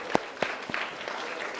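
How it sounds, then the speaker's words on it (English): An audience applauds to welcome an SJSU co-ed a cappella group, the Spartones, onto the stage at a university event; scattered, fairly faint clapping with a few distinct claps rising from a background murmur. "Let's give them a round of applause"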